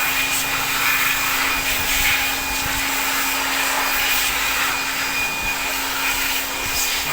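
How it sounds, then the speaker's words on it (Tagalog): A Nissan Navara engine bay gets blasted by an air blower during an engine wash, a loud, steady, unbroken whoosh with a faint tonal whine riding on top. "Blower natin lahat ng area"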